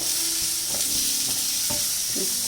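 Fresh corn samosa filling being stirred in a hot pan, with a steady close sizzle and several scraping spoon strokes, no voices.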